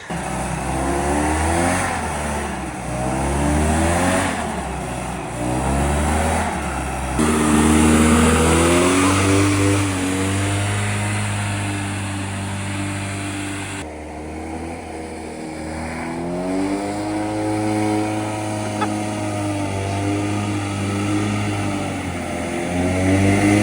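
A hovercraft's loud, roaring engine, unused for over 20 years, runs steadily with rising and falling revs, a harsh wind-like rush of air and exhaust over a strong low drone throughout.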